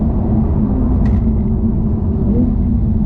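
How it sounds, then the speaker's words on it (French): A Porsche 992 Turbo S in Sport Plus mode downshifts gently through its PDK gearbox, heard from inside the cabin as a loud, steady low rumble with a slight rise in engine note partway through. "Elle rétrograde gentiment, tu vois."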